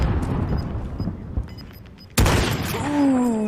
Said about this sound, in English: That is 2 shots down in this shotgun.